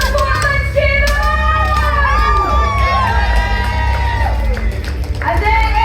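Spectators at an armoured combat (Outrance, armoured MMA) tournament at Kryal Castle cheer loudly and without a break, with shouts and whoops rising from the crowd near the fight.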